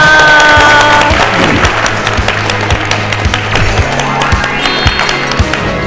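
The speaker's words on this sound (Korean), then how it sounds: "수고해주신 최하석 소장님께 다시 한번 박수 부탁드립니다" Steady applause from an audience, a dense wash of clapping filling the room throughout, with some scattered taps and crowd noise mixed in.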